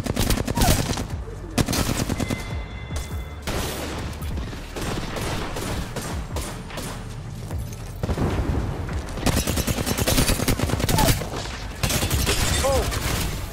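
Gunfire in the video game Apex Legends: loud rapid bursts of automatic fire and single shots in quick clusters, with short pauses and a voice occasionally heard in between.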